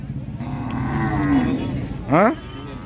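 A cow moos once in a long low call, then a shorter rising moo follows, close by with steady background murmur at a cattle market.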